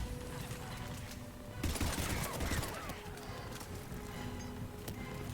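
Bursts of rapid gunfire crackle through a Mass Effect 3 Legendary Edition firefight, layered over game music and clatter, with a louder volley partway through.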